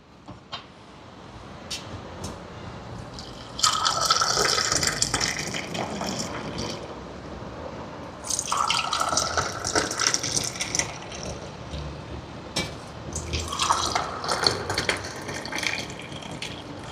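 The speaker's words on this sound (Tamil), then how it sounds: "இப்போ டீ ஊற்றியாச்சு பாருங்கள்" Hot tea poured into small cups in three separate pours, each a bright, splashy stream lasting a few seconds, close by with quiet pauses in between.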